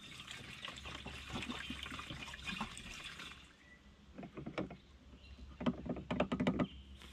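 Fuel treatment liquid glugs and splashes as it is poured into the fuel tank of a skid steer, a close, fluctuating pour that ends with a few clinks and knocks as the container is set down.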